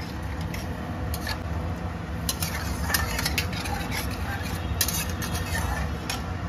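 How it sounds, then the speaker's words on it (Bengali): Potato curry with chhana (cottage cheese) being stirred in a pot right after warm water is poured in, a steady close-up churning and scraping with light bubbling throughout, a voice talking over it. "ঢেলে দিয়ে এটাকে এবার নেড়ে দেবো।"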